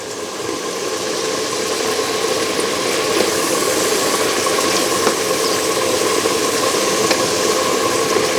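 Nigerian fried rice with thyme and curry being stirred in a hot pan, a constant sizzle under scraping stirring strokes, close and fairly loud throughout.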